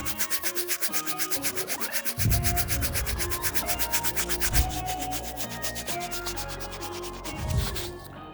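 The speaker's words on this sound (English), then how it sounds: "Next brush we're going to be using is the medium bristle brush to get these midsoles as clean as possible." A medium bristle brush scrubs the midsoles of Air Jordan 5 sneakers in quick, rhythmic back-and-forth strokes. The scrubbing is close, with no talking.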